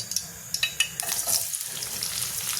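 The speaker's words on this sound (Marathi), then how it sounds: "कांदा 2 कांदे घेतले, छोटे छोटे 2 कांदे घेतले आणि ते कढईमध्ये टाकले." Small chopped onions dropped into hot oil in a kadhai while making radish-leaf zunka, sizzling and frying with a few sharp clinks of a spoon against the pan early on, close and bright.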